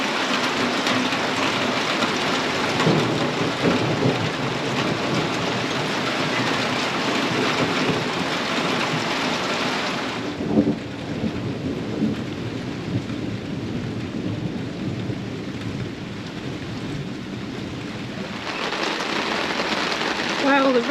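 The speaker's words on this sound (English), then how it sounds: "the rain is pouring, the lightning is flashing" Heavy rain pours in a dense continuous roar with low rumbling thunder underneath, heard from under a rooftop tent on a Land Rover Defender in Spain, easing briefly midway before surging again; a voice murmurs faintly beneath.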